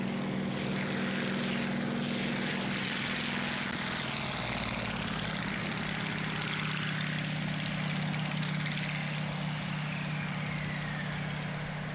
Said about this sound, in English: This is the CJ6 military trainer.